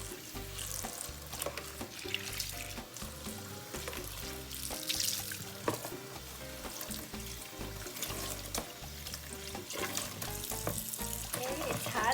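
Hot water runs steadily from a tap into a sink during face-mask washing, a continuous splashing rush with clattering handling sounds mixed in.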